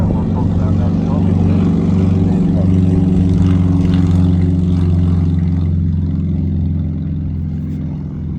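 Propeller aircraft engine droning steadily at the Parkes airshow in 2019, a loud continuous low hum that holds throughout and eases slightly near the end, with voices talking over it.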